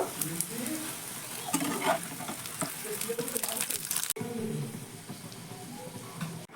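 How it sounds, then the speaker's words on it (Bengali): Puris sizzle and bubble steadily in hot oil for several seconds, with a faint clink or two and no talking. "এই পুরিগুলোকেও একইভাবে ভেজে নেব"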